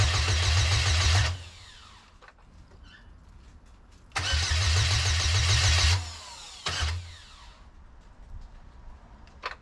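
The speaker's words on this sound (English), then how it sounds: "it probably wanted to start, but because it shuts off so fast, it just kills it" A Baja RZR engine cranks loudly for about a second and stops, then cranks again for nearly two seconds and briefly catches with a short burst before dying; faint background noise fills the pauses.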